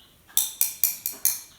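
A wine glass tapped five times in a steady, even rhythm, each bright, close, ringing clink decaying quickly before the next, with no talk over it.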